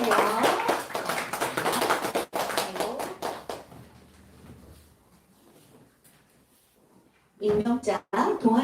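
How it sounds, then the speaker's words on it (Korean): Youth congregation applauding during a Sunday service at Gwangju Full Gospel Church, a burst of clapping that fades to quiet, followed by a short sharper round of claps near the end. "여러분 박수 쳐주세요."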